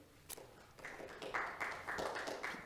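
Scattered clapping from a modest audience at a committee meeting, starting with a single sharp clap and building into a brief, fairly quiet round of applause in a room.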